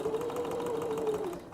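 A sewing machine chain-stitches fabric pieces together with a quarter-inch seam, its motor whirring in a steady, close, continuous run before slowing toward the end.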